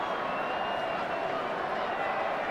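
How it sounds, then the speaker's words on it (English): A big Central District Bulldogs crowd chanting at an SANFL grand final, heard as a dense, steady roar of many voices filling a large stadium, constant in loudness. "enjoying the atmosphere of a big Central crowd chanting"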